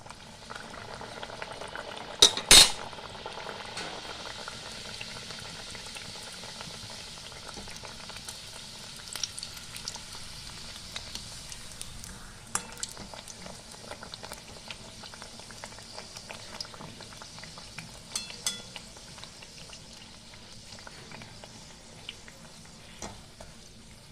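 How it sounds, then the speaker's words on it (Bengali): Sattu kachori deep-fry in a pan of hot oil with a continuous, even bubbling sizzle throughout. A couple of sharp clatters sound near the start. "এবার আমি এই যে ছাতুর কচুরি আমি বেলে নিয়েছি, এবার ভেজে দেখাবো"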